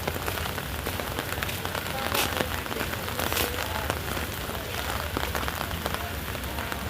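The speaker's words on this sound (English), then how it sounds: "largely due to the raindrops on my umbrella" Rain patters densely and steadily on a photography umbrella, a close, continuous crackle of drops with a few sharper hits and faint talk underneath.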